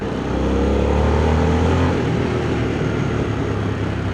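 A Harley-Davidson Sportster S 1250cc motorcycle engine drones steadily with a low rumble and rising harmonic tones, revving briefly, then settling into a continuous close running sound.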